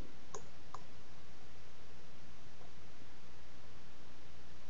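A couple of quick, faint computer mouse clicks early on, then steady low background hiss with no talk.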